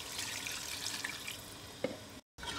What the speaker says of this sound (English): Now we're going to add 1 cup of hot water